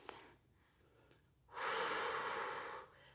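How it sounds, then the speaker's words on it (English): During a slow-paced Pilates workout, a person breathes deeply, with a faint inhale through the nose and then a long, loud, close exhale through the mouth. "Breathing deeply in through the nose and out through the mouth."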